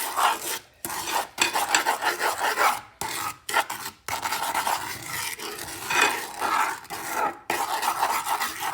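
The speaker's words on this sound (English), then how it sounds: "So we're just going to stir it all together" A spoon stirs a keto candied pecan mixture with butter in a bowl, giving close, steady scraping and rasping strokes broken by a few brief pauses, with no talking.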